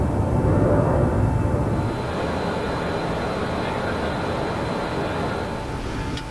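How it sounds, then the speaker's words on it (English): A cargo plane climbing after takeoff on a submarine resupply flight, a steady broadband engine drone that is slightly louder for the first two seconds, then holds an even, continuous roar. "Final instructions and coordinates are received, and the plane is airborne."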